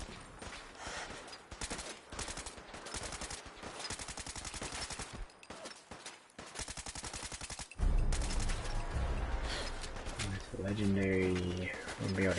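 Rapid automatic gunfire in Fallout 4 on hard difficulty, dense bursts of sharp shots rattling off in quick succession, followed by louder impacts, a heavy thud and layered game effects.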